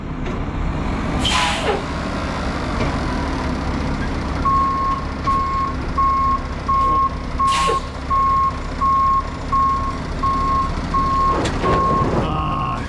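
A heavy tow truck's reversing alarm beeps in a steady, evenly spaced series while the truck backs up during the recovery of a broken 100,000-pound concrete pump, with a loud diesel engine rumbling beneath and occasional air-brake hisses.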